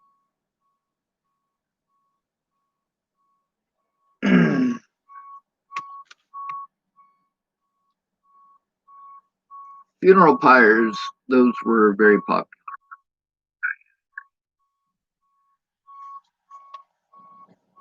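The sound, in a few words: truck reversing beeps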